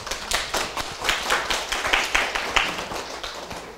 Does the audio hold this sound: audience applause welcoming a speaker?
yes